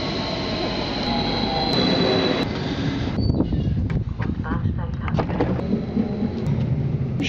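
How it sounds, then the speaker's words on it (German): A train pulls into a station platform, a loud steady rumble with squealing wheels and brake hiss, shifting into clattering, rattling carriages as it slows, with people nearby speaking. "gleich kommt der Zug"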